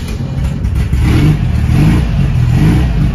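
A 1954 VW Barndoor Bus engine revs loudly and continuously up close, a rough, throaty air-cooled rumble with clattery texture and no talking.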